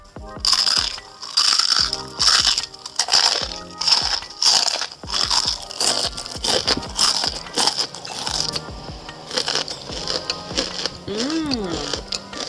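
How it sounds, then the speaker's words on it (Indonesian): Crispy fried bitter melon snack crunched while eating, a rapid series of loud close crackling bites and chews, with a voice briefly heard near the end. "Dijamin kriuk kres-kres dan pastinya bikin nagih."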